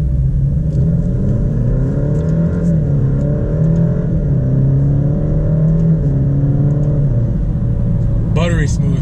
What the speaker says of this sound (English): you still hear a little something from the inline four-cylinder, but it is a four-cylinder